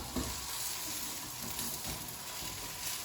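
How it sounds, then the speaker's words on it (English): An Osaka-style okonomiyaki fries on a hot griddle as it is flipped, a soft, continuous close sizzle with a faint thump near the start and no voices. "we're ready to flip this one now"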